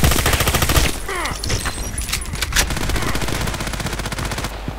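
Gunfire in the online shooter Contract Wars: loud, rapid automatic bursts hammer almost continuously, with faint voices and game effects underneath.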